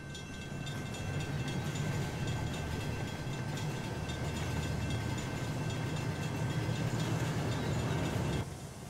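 Trains run in the model railway game Rolling Line, making a steady, continuous rumble with rattling wheel noise that holds at an even level before dropping off near the end.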